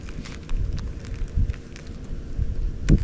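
Gusty wind buffets outdoors, a low rumbling roar with scattered crackly rustles rising and falling in strength.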